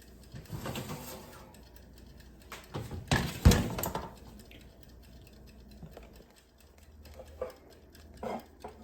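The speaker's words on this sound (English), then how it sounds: "Let's get it out of the oven" A pan pulled from a home oven at 400 degrees, with scattered metallic clanks and a loud scraping clatter in the middle, then quieter light taps and knocks.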